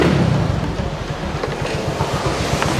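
An old Yamaha Mio scooter engine with a replaced exhaust idles close by with a steady, low throbbing exhaust pulse, loud and continuous with no talking.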